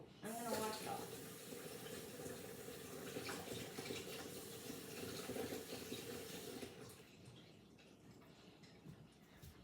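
Running tap water pours into a kitchen sink as a whisk is rinsed under it, a steady close rushing splash for several seconds that stops abruptly, leaving quiet room sound.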